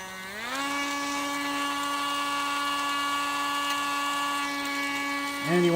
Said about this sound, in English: now next we'll drill the rail at the angle. Just grab my Dremel here.